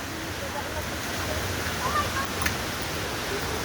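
Waterfall at Three Falls in Santa Maria, Laguna, its splashing water a steady broadband rush, moderately faint and continuous, with no clear breaks.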